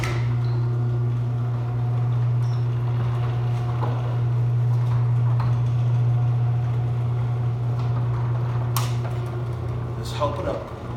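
An electric garage door opener strains to lift a door with a broken spring, giving a steady motor hum with scattered clanks and rattles throughout.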